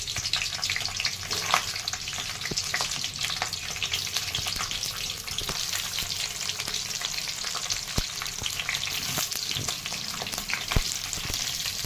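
Stuffed capsicums (shimla mirchi) frying in oil without water, a steady close crackling sizzle with occasional sharp pops and stirring clicks throughout, no talking.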